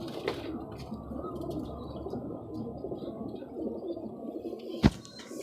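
A pair of Ferozpuri pigeons coo softly and steadily, close by, over low background murmur, with one sharp knock near the end.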